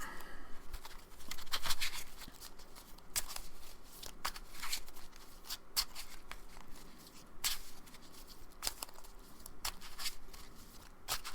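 Playing cards from the Rennervate card game riffle and snap in repeated bursts, close by, with soft handling noises and short pauses between shuffles.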